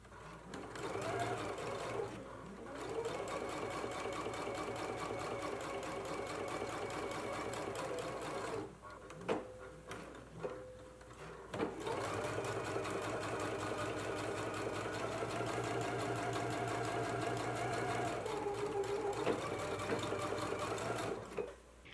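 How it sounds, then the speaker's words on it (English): A sewing machine stitches along a 5/8-inch seam line and then a second line inside the seam allowance, producing rapid rhythmic whirring runs that pause briefly twice before resuming. "Let's go ahead and stitch along our seam line and then do another stitch 1/4 of an inch away inside of our seam allowance."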